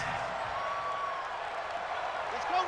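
Steady roar of a stadium crowd during a home game in a gridiron football video game, a dense, even wash of noise that runs unbroken with a faint whistle-like tone drifting through.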